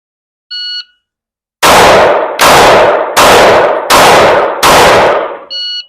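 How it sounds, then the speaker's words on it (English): Five loud, sharp gunshots fired at a target in rapid, evenly spaced succession, each about a second apart, bracketed by an electronic shot-timer beep before and after. "5 shots under 5 seconds."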